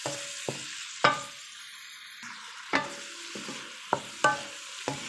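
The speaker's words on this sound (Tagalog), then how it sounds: "Pagkatapos, ilalagay na natin yung ating fresh hipon" Fresh shrimp stir-frying with tofu in a pan, a steady hiss broken by several sharp scraping strokes of a spatula at irregular intervals, close and clear with no voices.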